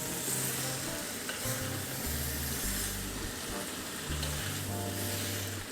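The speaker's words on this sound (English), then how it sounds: "Next, I'm gonna add the capsicum." Capsicum sizzles loudly in a hot pan as it is stirred, with steady frying hiss and scraping stirs throughout and no talk.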